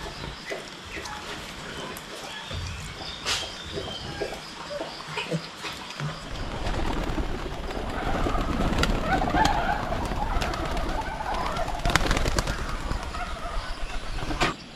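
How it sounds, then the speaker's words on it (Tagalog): Pigeons coo repeatedly after being let out of their coop on a rural farm, soft layered calls close by and continuing throughout, with a rougher rumbling background swelling midway. "Pinalabas naman natin yung ating mga kalapate para sunod na araw magpalipad naman tayo"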